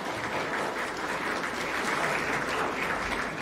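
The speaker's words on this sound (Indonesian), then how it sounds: "Boleh tepuk tangan, enggak apa-apa." Steady, dense applause from an audience at a political speech, filling the whole stretch evenly with no voice rising above it.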